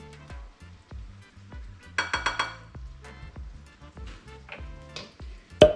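Curried Thai-spiced sausages with cauli rice, spinach and baby kale being dished up from a pan: scraping and clinking of a utensil against the pan and plate, a few sharper metallic knocks, close and moderately loud.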